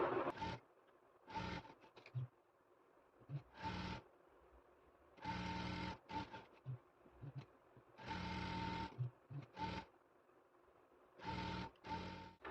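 An electric sewing machine stitches a pocket onto cargo pants in short, close bursts of steady whirring, about six runs separated by brief pauses, with no talking.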